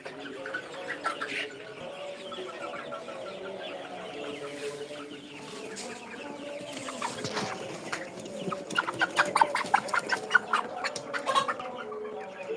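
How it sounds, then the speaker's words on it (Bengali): Tiger breed chickens cluck and chatter steadily nearby as a flock, with a busier burst of sharp calls toward the end. "তোকে দেখাচ্ছি টাইকার মুরগিগুলো আমার"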